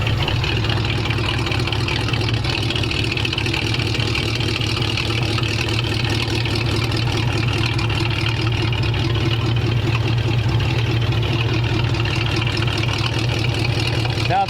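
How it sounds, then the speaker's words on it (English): A 1929 Ford Roadster pickup engine idles steadily with a new exhaust, giving a loud, continuous low rumble that holds evenly throughout, close by, with no one speaking. "Rev it up a little bit, Steve."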